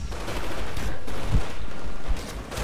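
Continuous rapid gunfire from the multiplayer shooter Titanfall in an Attrition match, a dense, loud barrage of overlapping shots and impacts running steadily throughout.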